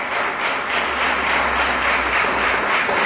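A church congregation claps together in steady, loud applause that fills the room and keeps up without a break for several seconds.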